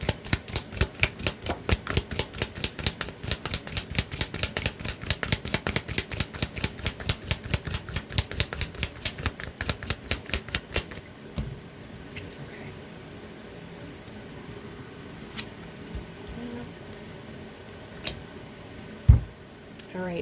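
Rapid, steady riffling clicks of tarot cards being shuffled, close and crisp, stopping partway through, followed by quieter handling noises and a soft thump.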